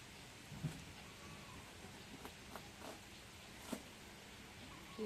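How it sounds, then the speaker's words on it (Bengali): Steady, quiet rain hisses in the background, with a few faint taps and knocks scattered through it. "বৃষ্টি হচ্ছে বৃষ্টি করতেছে"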